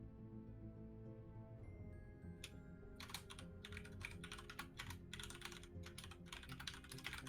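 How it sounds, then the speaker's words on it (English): Quiet computer keyboard typing starts after a few seconds of low hum, as bursts of quick keystrokes with brief pauses, soft and close, with no voices. "I'm just typing"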